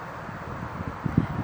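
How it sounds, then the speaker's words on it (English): Wind blows outdoors ahead of Hurricane Florence, a steady broadband rush buffeting the microphone with a few low gusty thumps near the end, no voices. "The wind is blowing,"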